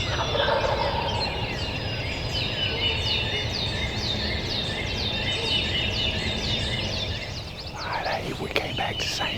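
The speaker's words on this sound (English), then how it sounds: "That tom that was gobbling was right next" Repeated loud gobbling of a wild turkey tom in a Kentucky creek bottom, rapid rattling calls in a continuous series close by, with other birds faintly in the background.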